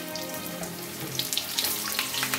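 Ridge gourd pieces drop into a hot oil tempering of spices including fennel seed for a summer lentil dal, setting off a rising crackling sizzle with sharp pops toward the end.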